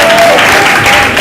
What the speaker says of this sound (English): Please give a round of applause for Kungani High School